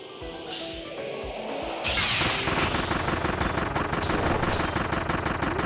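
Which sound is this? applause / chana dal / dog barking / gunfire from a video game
gunfire from a video game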